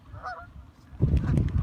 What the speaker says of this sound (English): Look at these smelly geese.